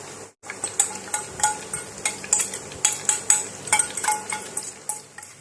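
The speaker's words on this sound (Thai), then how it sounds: "ที่เหลือจากการทอดไก่ของเรามาทอดกระเทียมต่อค่ะ" Minced garlic sizzles and crackles in leftover hot oil from frying chicken, the heat switched off, while a metal strainer scrapes and clinks against the pan in steady rhythmic stirring strokes, close and fairly quiet.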